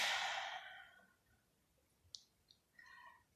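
A person imitates a small child's tired, fed-up exhale at bedtime: one long breathy sigh that fades over about a second, followed by a few soft clicks and faint breathy noises, close and quiet with no other voices.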